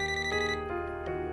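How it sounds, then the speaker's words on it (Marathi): A phone ringtone plays a short electronic melody of bright sustained tones, close and clear, with no talk over it. "हे बघा, पप्पांचा आला ना फोन आता."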